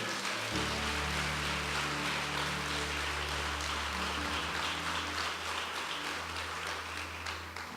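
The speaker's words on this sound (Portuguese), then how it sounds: "dê um forte aplauso ao Senhor" A church congregation applauds the Lord during a sermon, a broad steady wash of clapping over a low sustained organ or keyboard drone, loud and continuous throughout.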